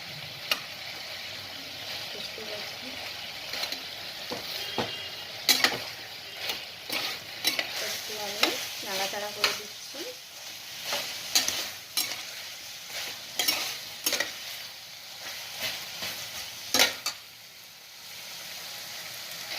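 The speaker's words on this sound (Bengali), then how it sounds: "এটা ভালো করে আবার নাড়াচাড়া করছি" Chicken fries in a pan while being stirred, with a continuous sizzle broken by frequent scraping and clattering strokes of the spoon against the pan, close and fairly loud, with no talking.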